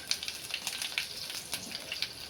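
Mustard seeds, cumin and curry leaves sizzling and popping in hot oil in a pan for a puffed-rice breakfast, a steady close crackle with scattered sharp spits and no voices.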